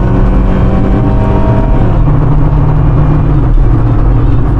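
A Honda Civic Coupe LSi (EJ2) engine revs up hard on an empty straight road, a loud, continuous drone that climbs in pitch and then shifts gear, heard close from inside the car without talk.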